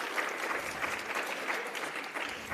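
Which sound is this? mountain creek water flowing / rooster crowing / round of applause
round of applause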